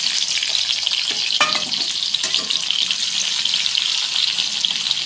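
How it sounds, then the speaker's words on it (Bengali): Onion and green chili frying in mustard oil in a pan with cumin seeds, a loud continuous sizzle with a couple of sharp stirring clinks, close-up and without speech. "এবার পেঁয়াজ কাঁচা লঙ্কা দিয়ে দেবো"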